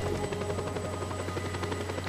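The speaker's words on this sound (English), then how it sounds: "I'm shooting my own chopper." A helicopter in the Just Cause video game gives a loud, steady rotor thrum with fast, even blade chop. The sound is close and continuous for about two seconds, with no talk.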